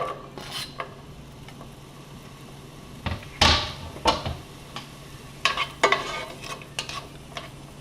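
Sliced onion goes into a pan with soft scraping, stirring and clattering, a few louder knocks and rustles against a faint steady background, close by with no talking.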